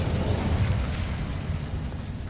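Incendio fire spell cast in Hogwarts Legacy, a dense roaring burst of flame with low rumble, loud and continuous for about two seconds.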